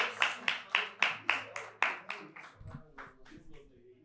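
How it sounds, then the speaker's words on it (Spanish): A small group clapping in rhythmic bursts about twice a second during a philosophy talk show recording, the claps fading out after a couple of seconds as low voices take over. "Bravo, un aplauso."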